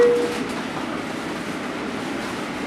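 A train running on rails, heard as a steady, loud rumbling roar from inside, with no talking.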